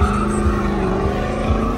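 An old-school car sliding with tire squeal at a drag strip event, a loud, continuous engine drone and screech held close up for the whole moment.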